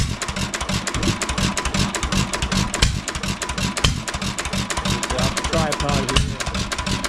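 A rebuilt 1 3/4 Hercules engine running on a bare exhaust pipe with no muffler, a steady loud rapid chugging close by that continues throughout, with brief background voices.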